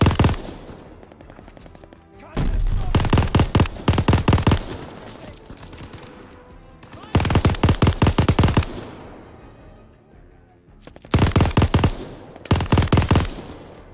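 Turret machine gun in the Call of Duty Vanguard campaign rattles off three long, loud bursts of rapid fire, separated by pauses of quieter battlefield noise.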